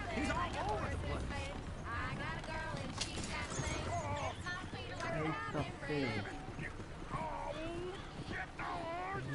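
Hooves of horses pulling a coach clip-clop in Red Dead Redemption II, a rapid trotting rhythm under game music and effects while a player talks over it.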